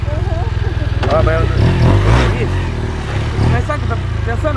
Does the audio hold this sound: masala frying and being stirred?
no